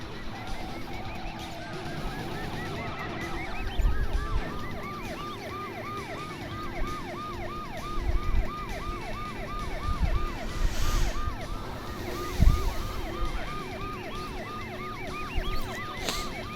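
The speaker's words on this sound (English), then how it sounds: "it's that cop siren bug where it's not attached to the cop car properly for some reason" A police car siren from the video game Driver 2, glitched and detached from its car, wails in steady repeating rising-falling sweeps across most of the stretch, layered over low engine and road rumble with occasional thumps.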